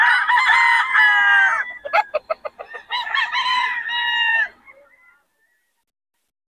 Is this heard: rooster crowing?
yes